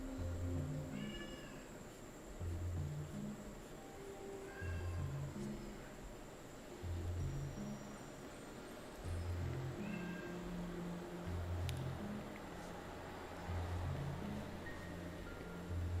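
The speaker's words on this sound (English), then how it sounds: "Oh God, the fucking cat." A cat that is not the household's meows insistently at a door, repeated drawn-out meows arriving in bursts every couple of seconds over a steady low background hum.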